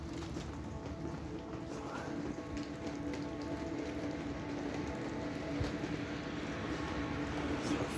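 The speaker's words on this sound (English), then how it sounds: "I know it's raining right now" Steady rain falling at night in a town near a bus stop, a constant close patter of drops on hard surfaces with no voices.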